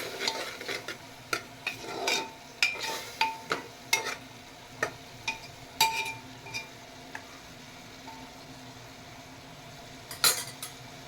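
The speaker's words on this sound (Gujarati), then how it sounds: "એક કલાક પલાળેલી અડધો કપ મગની દાળ ઉમેરીશું મિક્સ કરીશું" Soaked mung dal stirred in a pan, a series of distinct scraping and clinking spoon strokes against metal over a faint frying hiss, spaced irregularly and fairly close.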